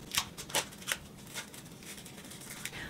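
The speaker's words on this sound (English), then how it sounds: "Before I put the cucumber in one of these boxes, I want to take the plastic off." Plastic wrap is peeled off a cucumber, giving soft crinkling and rustling with a few sharper crackles early on, faint and close.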